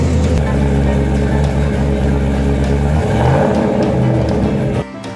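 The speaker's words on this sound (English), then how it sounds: "Just listen to this here bad boy start on up." Hot-cammed LS3 V8 in a 1953 Dodge M37 truck, a loud, close, lumpy idle with a choppy rhythm that rises in a brief rev near the middle, then cuts off abruptly.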